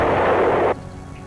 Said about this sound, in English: The biggest American artillery pieces, the 175mm howitzers, could destroy a target at a range of 20 miles.